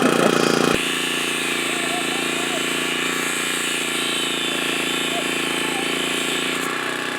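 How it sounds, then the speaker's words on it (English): A generator runs steadily and loud nearby at a homestead, a constant mechanical drone after a brief louder clatter at the start, with no talk over it. "That's the noise of the generator."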